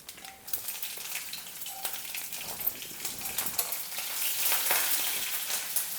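Green chillies frying in hot oil with mustard seeds and cumin in a pan, a close crackling sizzle with pops that grows louder and busier toward the end.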